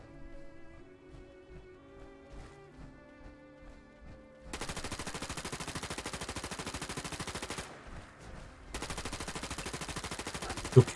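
An enemy opens fire in Fallout 4: after a quiet stretch of ambient tones, two long bursts of rapid automatic gunfire ring out, separated by a short gap.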